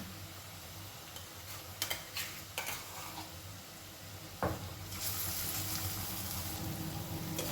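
Soybean mince is stir-fried with onions in a pan, with quiet sizzling broken by scattered scraping and clinking stirs and a brief spatula knock, before the frying grows louder and steadier toward the end, with no one speaking.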